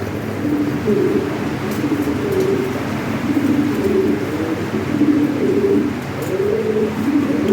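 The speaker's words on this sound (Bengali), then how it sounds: "অনেক সুন্দর কবুতর" Several Lahori Sirajee pigeons coo continuously nearby, low throaty rolling calls overlapping in a steady rhythm.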